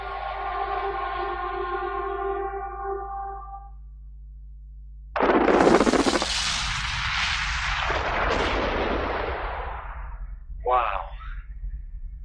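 Gold-mine blast of 180,000 tons of explosives: after a long steady tone and a pause, a sudden loud broad rumble erupts and rolls on for several seconds before fading, followed by a short sharp burst.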